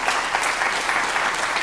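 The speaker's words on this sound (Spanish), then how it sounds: "¿Por qué no das unas palmas fuertes?" Loud, steady applause from a church congregation, dense clapping sustained throughout with no break or talk over it.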